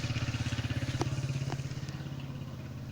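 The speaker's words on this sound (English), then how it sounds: "There's always going to be motorcycles out there." A motorcycle passes outdoors, its engine thrumming in a fast regular pulse that is loudest at first and then fades as it moves off, with a couple of light clicks on top.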